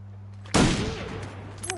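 A single loud rifle shot bursts out in The Long Dark survival game and fades into a short ringing echo over a low steady hum.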